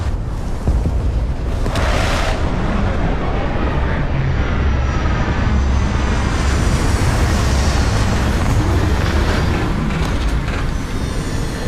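A spaceship touching down in Starfield gives a loud, continuous engine roar with deep rumble and airy hiss, swelling slightly with a few bursts, no talk over it.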